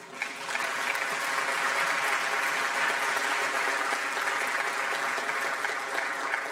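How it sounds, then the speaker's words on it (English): Steady audience applause at an ILO Global Social Protection Week event, a dense continuous wash of clapping hands that holds at an even level from start to finish, with no talk over it. "Let's give them a round of applause,"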